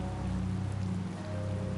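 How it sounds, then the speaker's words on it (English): Steady rain falls in a PS4 video game, a dense, even hiss of drops with a low rumble underneath, continuous throughout. "It's raining after all."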